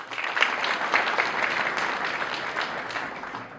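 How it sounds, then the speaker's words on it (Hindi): Loud audience applause at a conference gathering, dense and sustained clapping from a large crowd that continues steadily without a pause. "एक बार उनके लिए जोरदार तालियां हो जाए"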